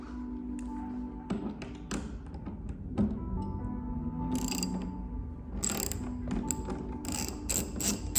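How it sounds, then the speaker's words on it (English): Torquing down the seat base mount bolts on a Porsche Cayman S 987.1 with a ratchet: repeated close clicking and metallic tapping in irregular bursts over a low hum. "then I'm gonna torque down the base mounts."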